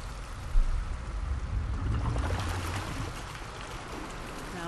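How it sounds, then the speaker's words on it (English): Water rushing and trickling steadily in the video game Uncharted: The Lost Legacy, a broad flowing wash with a brief bump near the start, moderately loud and without talking. "Now we've got water running down both sides."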